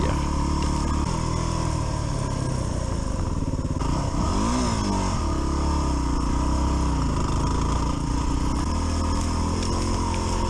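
Dual-sport motorcycle engine running steadily throughout, with shifting revs and rattling clatter as it rides over rough old forest-road trail; close and continuous, no talk.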